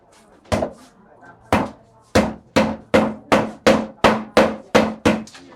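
Food is pounded by hand with a heavy mallet at a vegetarian festival: about eleven sharp, solid thuds, spaced out at first, then falling into a quick, steady rhythm.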